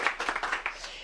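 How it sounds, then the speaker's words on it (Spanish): A short burst of audience clapping at a Power BI talk, several distinct claps close together that fade within about a second. "así que un súper aplauso"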